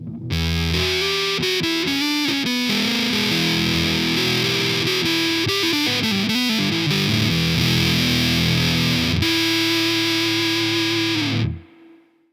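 Eastwood Univox Hi-Flier electric guitar through a swampy, full-on distorted tone, loud sustained chords and bending notes played continuously before a final ringing chord cuts off.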